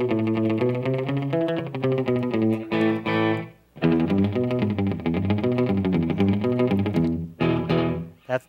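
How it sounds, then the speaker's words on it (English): Electric guitar through a dual tap delay pedal set to a tight slapback, each note followed closely by a short echo, playing chordal phrases with brief pauses, loud and close with no talking. "that kind of a slapback delay"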